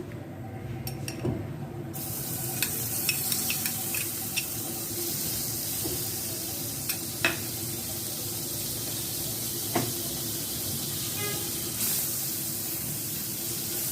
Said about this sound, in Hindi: मक्खन को मेल्ट करेंगे